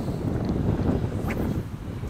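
Gusty south wind buffeting the microphone with a heavy low rumble, constant and close, with faint water and fishing boat sounds underneath.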